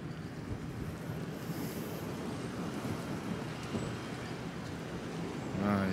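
Ocean surf rolls in at Hollywood Beach as a continuous broadband wash with wind buffeting the microphone, steady and moderately loud throughout, no speech.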